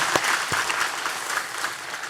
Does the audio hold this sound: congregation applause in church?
yes